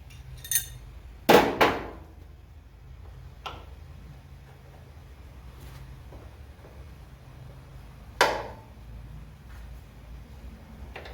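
Metal tools clink and knock sporadically as wrenches are handled while working on a rough 1963 Impala, a few sharp, close taps separated by quiet pauses.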